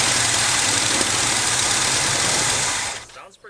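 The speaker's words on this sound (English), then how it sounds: "Sounds pretty good back there with the dual exhaust." A six-cylinder GMC truck engine with dual exhaust idles loudly with a deep, rumbling exhaust note, then cuts away abruptly near the end.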